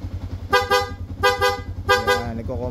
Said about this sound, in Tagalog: So pag bumusina po yan,